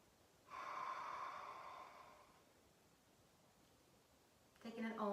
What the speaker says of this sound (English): And we'll take a nice big inhale and exhale.